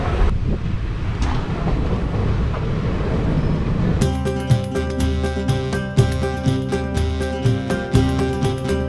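The Haldia–Asansol Express passenger train, nearly empty, rolls along in a steady low rumble heard from inside the coach, then music comes in over it halfway through.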